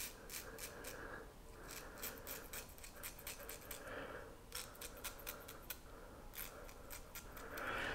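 A Muhle R89 safety razor scrapes through stubble under the nose in short, close, crisp strokes, quiet and rhythmic, with no talk.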